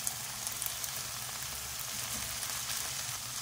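Shredded cabbage, 150 grams, sizzles steadily in a hot pan for cheesy vegetable egg pasta, a broad continuous crackle with a few small pops, close and unbroken, with no talking.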